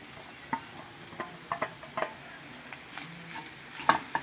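A spoon stirs boiled, peeled potatoes into dry keema samosa stuffing in a pan, giving scattered scrapes and sharp clinks against the metal over a faint low sizzle, close up and with no talking.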